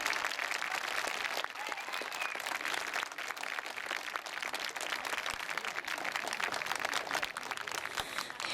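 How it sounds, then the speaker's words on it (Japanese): Spectators applaud both teams after a junior high school rugby match, a loud, continuous crowd ovation of many clapping hands that holds steady for over eight seconds. "両チームの健闘をたたえ、今一度盛大な拍手をお願いいたします。"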